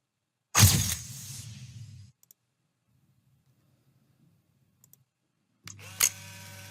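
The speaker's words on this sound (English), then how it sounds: "This one is the one I'm looking for. It's called the camera shutter." A camera shutter sound effect plays twice: a loud mechanical snap with a short whirring tail, then silence, then a second sharp click near the end.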